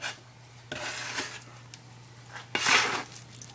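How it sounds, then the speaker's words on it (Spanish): A spatula scraping the sides of a bowl to gather sweet Mexican pan de muerto bread dough and loose flour, several soft rasping strokes close by, the last one longest and loudest, with no speech. "Yo aquí tengo una espátula para poder ir recogiendo todo lo que está aquí."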